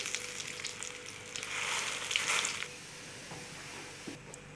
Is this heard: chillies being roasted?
yes